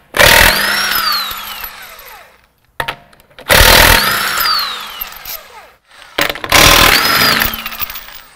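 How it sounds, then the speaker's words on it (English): An electric impact wrench on the wheel lug nuts of a 2015 Subaru Outback, firing in three loud close bursts of rapid hammering with a rising whine, each bursting on and then trailing off, separated by short pauses. "an electric impact such as this one should take the lugs off"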